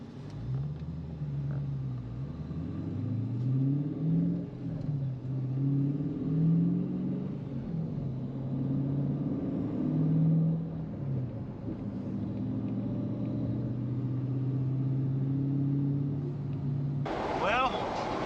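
A 2006 Dodge Charger with a Hemi V8 drives along the road, its engine rumbling and shifting through gears from inside the cabin, steady and moderately loud, ending with a brief clatter.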